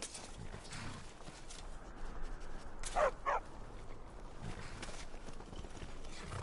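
A trained war dog in Skyrim gives two quick barks close together midway through, fairly close and loud against a steady, noisy game ambience.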